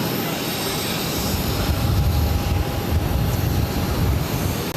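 An airplane at Boston Logan airport roars in a broad, steady rush of engine noise, loud and sustained as it runs on the runway for takeoff, with faint tower radio chatter mixed in.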